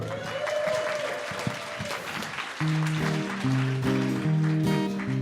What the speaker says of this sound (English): Please give a round of applause, Chris McKellen and Cal Noble.